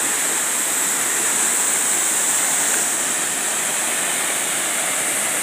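Swollen river water rushing hard past a crossing point on a rural route, a loud, steady, close roar of churning flow with no pauses throughout.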